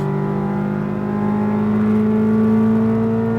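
Corvette Z06 engine pulls hard on the SpeedVegas race track, a loud rising tone that climbs steadily in pitch, heard from inside the car.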